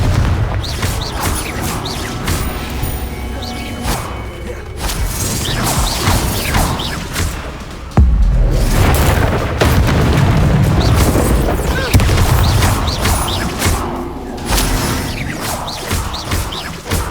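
Confringo spell blasts in Hogwarts Legacy, a dense, continuous din of booming explosions and crashing impacts with heavy low rumble, loud and close, overlapping with combat noise and game audio throughout.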